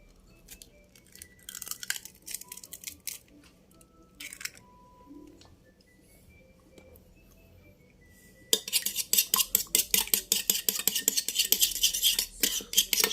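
An egg is cracked and then beaten briskly in a bowl, first scattered clinks and taps, then a long run of rapid, rhythmic whisking clatter close by.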